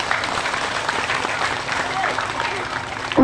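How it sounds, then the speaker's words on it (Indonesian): An audience at a religious lecture claps steadily for a few seconds, a dense wash of applause from a gathered crowd with faint voices mixed in. "Tepuk tangan dulu dong."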